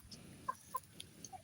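Chickens, a roundhead hen among the gamefowl, give soft, short clucks a few at a time at moderate distance during bathing, with quiet background noise between the sparse calls.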